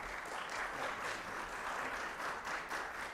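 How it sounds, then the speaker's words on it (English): Audience applause rising to greet a guest arriving on stage at a panel event on cultural identity and national security, steady dense clapping filling the room for about three seconds with no voices. "Let's give him a round of applause."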